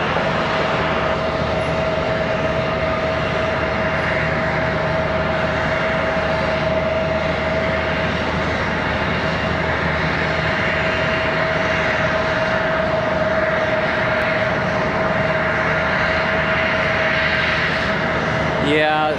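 An airplane at Charlotte Douglas International Airport gives a steady, loud engine roar with a constant whine that holds for the whole stretch.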